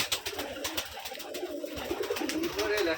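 Domestic pigeons coo in low, throaty repeated calls, close by and fairly loud, with a bit of background noise from the loft.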